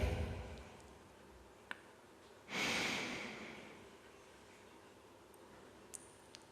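A single deep inhale, close and soft, swells for about a second as a breath is taken and held in a quiet room, with faint clicks around it.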